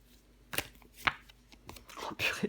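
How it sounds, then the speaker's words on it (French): A tarot card laid down on a table during a reading makes a few light, close taps and slides in quiet surroundings. "Je recouvre le 5 de coupe."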